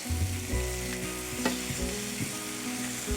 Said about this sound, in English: So move that about the pan. I've got the pan very hot.